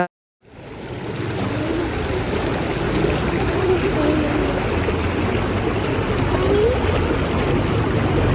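Steady flowing water, like a stream or fountain outdoors in the evening, runs as a continuous broad rush that begins abruptly and holds level and fairly loud throughout, with no clear talk above it.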